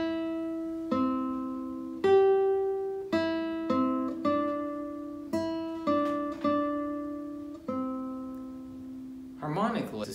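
A classical guitar plays the melody of Sor's Estudio op. 35 no. 13 as slow, clear plucked notes, each left to ring, close and alone, with a brief scrape of movement at the end.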